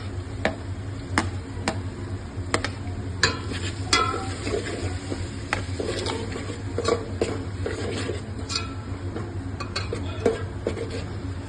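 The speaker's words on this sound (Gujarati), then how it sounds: "ડુંગળીનો વઘાર કરવાનો છે પહેલા।" Onion frying in a pan as a tempering makes a low background sizzle, with frequent sharp metallic clinks and scrapes of a spatula stirring throughout.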